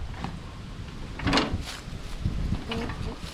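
An old engine that sat outdoors in a fence row for years, spun over by hand with its carburetor wide open, giving a few soft, uneven whooshing compression strokes and mechanical clunks nearby over a steady background.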